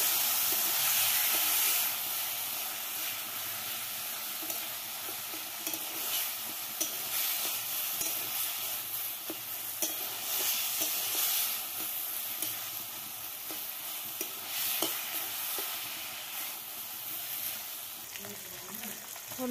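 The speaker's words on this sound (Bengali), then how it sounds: "এখন আদা বাটা জিরে বাটা দিয়ে দিচ্ছি" Ginger and cumin paste sizzles in oil in a pan, a dense, steady hiss throughout with faint clicks of stirring, close and moderately quiet.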